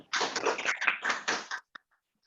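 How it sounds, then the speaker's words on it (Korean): Brief clapping from a seminar audience welcoming a speaker, a short cluster of claps lasting under two seconds, fairly close, then a single last clap and silence. "박수 부탁드립니다"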